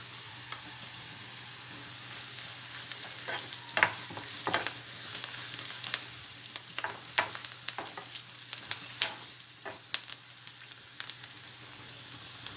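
Onions frying in a pan with turmeric added for a gongura chana dal curry: a steady crackling sizzle with many sharp pops and occasional stirring, fairly quiet.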